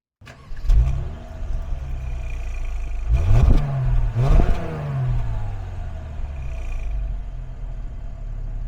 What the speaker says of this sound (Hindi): ये है इस गाड़ी का स्टार्टअप।